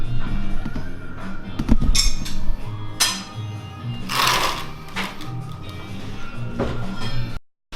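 Oiled driftwood gets a light sanding by hand, a continuous close scratchy rasp with a few louder scuffing strokes, steady throughout before cutting off abruptly at the end.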